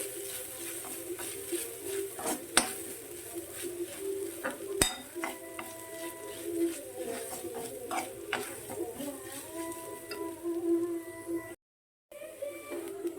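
Coconut and spices roasting in a pan for Kerala chicken curry, a steady close sizzle with scraping stirs and sharp spoon clinks against the metal, then a brief gap near the end.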